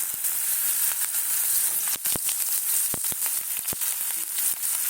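Potatoes and onions tossed into hot oil after a spice tempering, a loud, dense sizzle that crackles continuously up close, broken by sharp clicks and knocks of a spoon against the pan.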